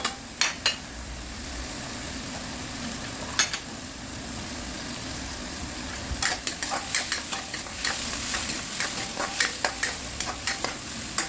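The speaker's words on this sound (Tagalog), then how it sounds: "masarap igisa ng mabuti ang kamatis" Tomatoes sautéed in a pan, a steady crackling sizzle with sharp spatula scrapes and taps that become rapid and rhythmic in the second half, close up and without voices.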